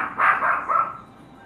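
A pet dog lets out a short whining bark, close and loud, drawn out over about a second before fading.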